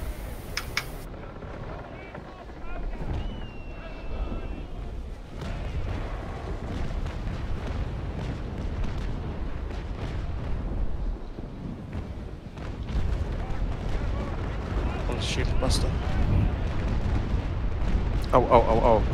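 Naval cannon fire in an age-of-sail ship battle game: several deep, rumbling booms spread across a windy, watery background, with faint voices now and then.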